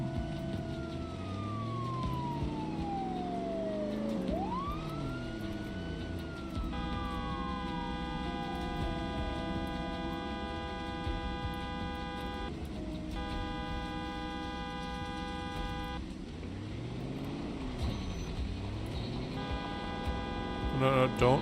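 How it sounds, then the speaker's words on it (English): In the Project Zomboid video game, a car horn honks in long sustained blasts on a Louisville street, steady and moderately loud, alternating with shorter bursts and gliding tones over a low background hum. "We'll do one more honking."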